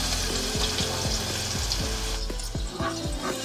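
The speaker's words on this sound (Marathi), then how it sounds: "आता कांदा थोडा वेळ भाजू दे, म्हणजे थोडासा नरम होऊ दे।" Chopped onion fries in hot tempering oil for a Maharashtrian aamti, a loud, steady close-up sizzle with repeated scraping strokes of a spoon stirring the pan.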